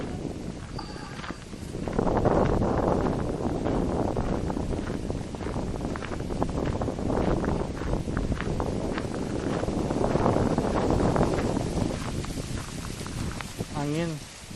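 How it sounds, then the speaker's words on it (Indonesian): Steady wind blows and buffets the microphone at a lakeside park nature center in Richmond, Virginia, a continuous broadband rush through the whole stretch, with people talking over it. "Angin."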